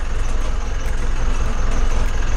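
A bus with double rear tyres drives through mud, its heavy diesel engine giving a steady, loud low rumble that holds throughout, with no voices over it.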